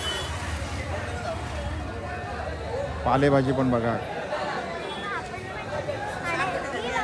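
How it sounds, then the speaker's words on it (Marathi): Dense crowd chatter and babble fill a busy Sunday vegetable market, with a nearby voice speaking over the steady hubbub and occasional passing-traffic noise. "रविवार आहे ना, त्याच्यामुळे भयानक गर्दी असते."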